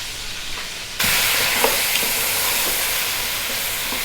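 Onion with ginger-garlic paste bursts into loud, steady frying in a pot for beef bone soup, a dense close sizzle starting abruptly after a quiet second and continuing with small pops and stirring scrapes.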